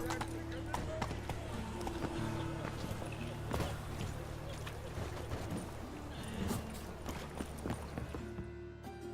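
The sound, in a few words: horse galloping, from video game The Witcher 3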